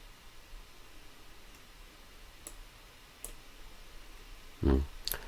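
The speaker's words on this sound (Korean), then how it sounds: "그래서 공간 검색을 이라는 걸 누를게요" A computer mouse clicks once to choose a spatial search option, a single sharp close click after a few faint ticks over quiet background hiss.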